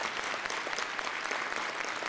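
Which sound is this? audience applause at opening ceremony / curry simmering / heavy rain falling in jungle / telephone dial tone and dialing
audience applause at opening ceremony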